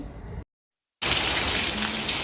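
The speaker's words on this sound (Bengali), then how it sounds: "বাহিরে অনেক বৃষ্টি হচ্ছে" Heavy rain falling outside a house, a dense, even hiss of downpour that cuts out briefly and then returns louder and steady, with no voices.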